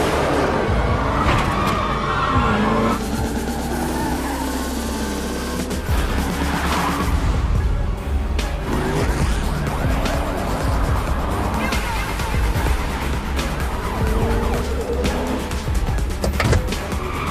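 Street race cars launching in a film scene, engines revving hard with tire squeals and skids, cars roaring past in dense overlapping bursts of engine noise.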